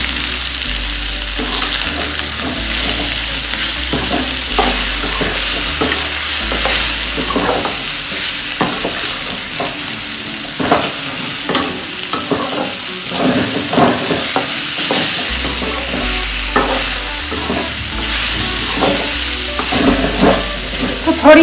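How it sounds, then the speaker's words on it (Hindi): Salt, black pepper, red chilli and turmeric sizzle steadily in a pan for a bhindi and cabbage sabzi while a spoon stirs and scrapes repeatedly, loud and close, with no voices. "इसको 1 या 2 मिनट्स तक फ्राई करते रहें."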